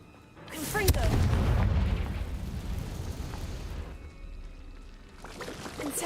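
A Confringo fire spell in Hogwarts Legacy bursts in a deep, booming explosion that rumbles on and fades over several seconds. A voice speaks briefly at the start and the end.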